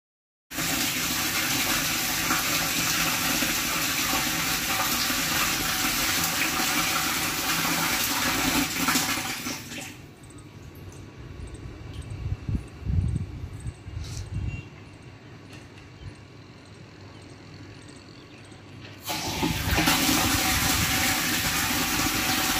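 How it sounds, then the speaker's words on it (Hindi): Water gushes loudly into a tank, a dense steady roar that drops to a quieter trickling flow for several seconds, then surges back to full force. "ये देखें, ये पानी जा रहा है"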